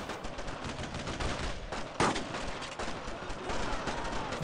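Rifle gunfire in the World War II shooter Brothers in Arms: Road to Hill 30, a Springfield sniper rifle firing from inside a church amid dense ongoing battle noise, with one sharp, loud crack standing out near the middle.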